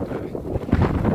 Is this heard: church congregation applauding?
no